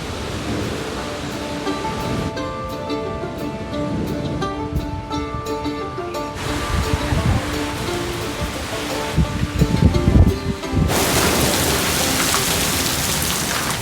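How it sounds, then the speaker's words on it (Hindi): Heavy rain pours across the Madhmaheshwar valley in a steady, dense roar, with rain drumming close on a surface, a low rumble partway through and the downpour swelling louder toward the end. "सामने मधवेश्वर घाटी में देखिए इतनी भयंकर बारिश।"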